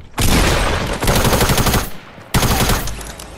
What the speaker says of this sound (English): I got sniped at from somewhere else too.